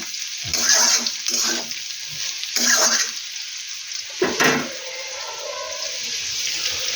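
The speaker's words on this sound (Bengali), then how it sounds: "আলুটা ভাজছি" Potatoes frying in a pan in a home kitchen, bursts of sizzling and stirring scrapes come and go against quieter gaps, close and fairly loud.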